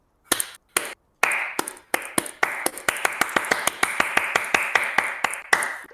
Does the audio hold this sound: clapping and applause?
yes